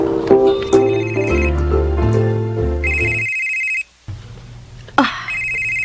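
A mobile phone plays a loud, clear melodic ringtone in repeated phrases, breaking off for a brief gap before the tune resumes, with no talking over it.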